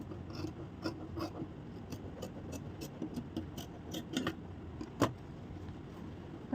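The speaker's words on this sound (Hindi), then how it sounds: "और यहाँ से थोड़ी सी हम कटिंग कर देंगे।" Scissors cutting blouse fabric during stitching work, a series of short crisp snips with a faint rasping edge, spaced irregularly across a quiet room, one sharper snip standing out near the end.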